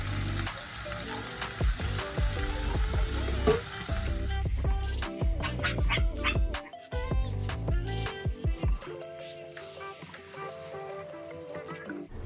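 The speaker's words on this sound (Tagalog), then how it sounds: "kailangan lang nating igisa-gisa" Mushroom, onion and chayote being sautéed in a pan, giving a close sizzle broken by clatter and scraping as the pieces are stirred, then fading toward quiet near the end, with no talking.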